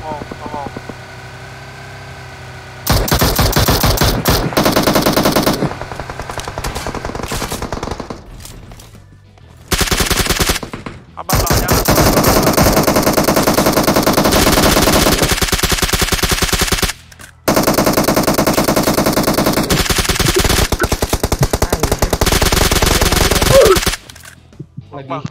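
Loud, sustained automatic gunfire in the mobile battle royale game PUBG Mobile, with long rapid bursts broken by short pauses and an engine-like hum between them.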